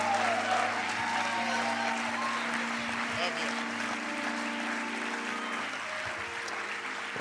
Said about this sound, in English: Why don't we give that hand clap to Jesus?